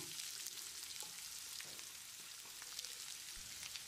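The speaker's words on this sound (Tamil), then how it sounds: "காலிஃப்ளவரை போட்டு 1 நிமிஷம் நல்லா பிரட்டி விடணும்." Soft, continuous sizzling and crackling of cauliflower stir-frying in a pan, with occasional light scraping as it is stirred.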